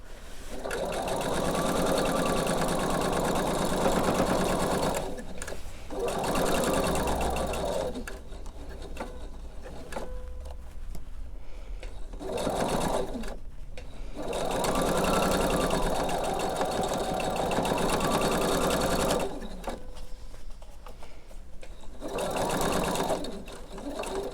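A sewing machine runs in long bursts stitching a pinned quilt seam, its motor whirring loudly and steadily with brief pauses between runs.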